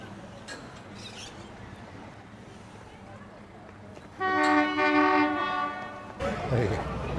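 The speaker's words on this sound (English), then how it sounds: "wait for this choo-choo train" Horn of the Cockle Train, a tourist train at Victor Harbor, sounds loudly near the end over low background noise and faint voices, a sustained toot lasting about two seconds.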